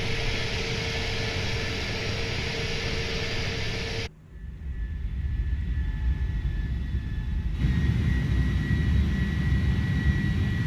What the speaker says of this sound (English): it's my favorite view of the 310